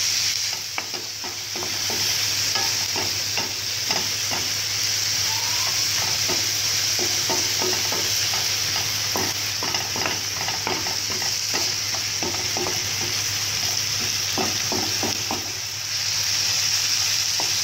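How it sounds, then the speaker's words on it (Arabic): Onion and kefta fry in a pan while being stirred, a loud, steady sizzle broken by repeated scraping strokes of a utensil, with a constant low hum underneath. "دابا غنردو حتى يتشحروا حتى تطيح البصله والملح والكفته"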